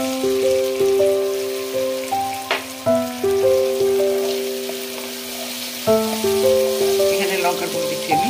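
Onion paste fries in a pan for a cauliflower and cashew do pyaza curry, giving a steady crackling sizzle beneath sustained melodic tones.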